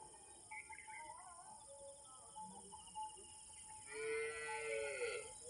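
A large bull moos outdoors, where cattle are being brought out for sale: a low, drawn-out call rising over a quiet background of birdsong and faint distant sounds, fairly soft overall.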